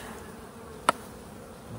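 Faint, steady buzzing of honeybees around an open hive during an inspection hums throughout, broken once by a single sharp click midway.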